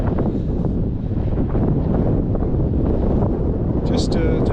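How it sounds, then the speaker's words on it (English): Strong wind buffeting the microphone in open mountain terrain while backpacking, a continuous loud rushing roar throughout, with a brief sharper gust near the end. "Windy."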